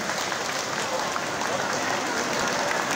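A crowd of women at a parish patron feast celebration claps steadily and loudly throughout, a dense continuous applause with a voice faintly mixed in.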